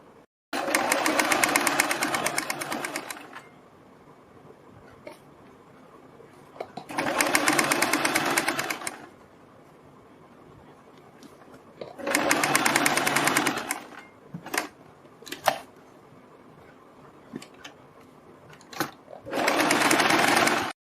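A sewing machine stitches fabric for a boat neck blouse, four loud, fast whirring runs of a few seconds each, separated by quiet pauses with small clicks and handling.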